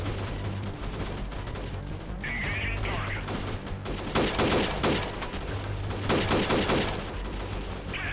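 Video-game gunfire from Freeman Guerrilla Warfare crackles in dense, overlapping bursts of rifle and automatic fire, several louder volleys standing out over a constant rumbling battle bed.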